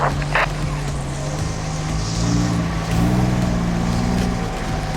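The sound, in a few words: 4WD vehicle driving up a tough track with winch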